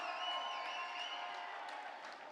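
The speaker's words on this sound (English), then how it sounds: "And also massive round of applause for our two warriors." Crowd at a Gunman Fight Series bout applauding the two fighters after three rounds, a steady wash of clapping and cheering that fades slightly toward the end.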